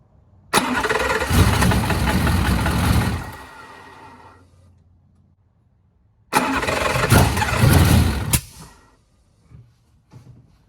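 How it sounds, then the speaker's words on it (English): A TVR Cerbera sports car's engine cranks and fires twice, each start roaring loudly for a couple of seconds before fading and dying away, with a short quiet gap between the two attempts. "And I'll go start the car."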